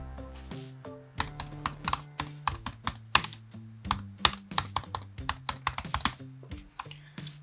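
Typing on a computer keyboard to add text in Adobe Illustrator, with rapid close key clicks in an irregular rhythm over a faint background tone.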